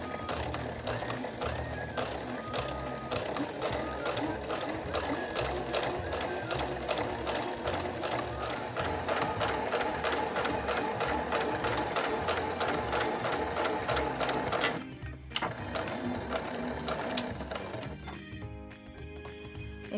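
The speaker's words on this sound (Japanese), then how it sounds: "2本目は 5mm 離れたところを縫っています。" A domestic sewing machine stitches a seam on a body bag with a quilted lining, running a second line 5 mm from the edge. It makes a fast, continuous mechanical chatter under a talking voice, then stops abruptly with a few short bursts.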